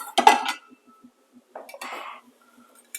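Pan and dishware clatter while meatloaf slices go into warm sauce for a bourbon BBQ bacon meatloaf: a sharp clink and scrape up front, then quiet, then a second rattling handling burst, close and alone.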